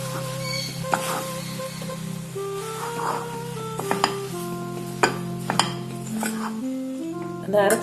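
A sweet pink mixture with half a cup of Milkmaid condensed milk is stirred in a pan, with intermittent spoon scrapes and metallic clinks against the pan, and a steady hum underneath.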